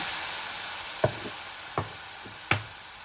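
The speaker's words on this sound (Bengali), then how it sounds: "চিংড়ি মাছগুলো যে ভেজে নিয়েছি তুলে নেবো" Shrimp fry in a pan with a soft, steady sizzling hiss. Three sharp knocks of a utensil against the pan land about a second apart.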